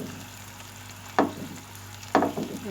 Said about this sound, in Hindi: टमाटरों को थोड़ा सा स्पून से मैश कर लें पहले